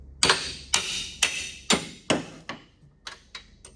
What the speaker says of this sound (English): I put the stubby wrench on the shock bolt, then I swing a big handheld sledge under there to break it loose